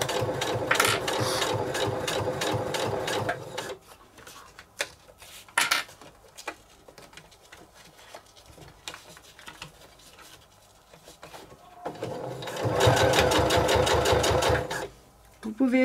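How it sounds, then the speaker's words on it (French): A sewing machine stitches along the full length of a beach bag strap in two loud, rapid bursts of steady running at the start and end, with softer handling noises and a quiet stretch between. "vous devez piquer sur toute la longueur"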